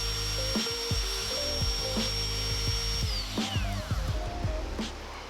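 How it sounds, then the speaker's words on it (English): A router cuts a deeper channel in wooden frame pieces for a hinge pin, producing a loud steady high whine with repeated short passes of grinding, rasping bites into the wood. "I used another to route in the deeper channel for the hinge pin"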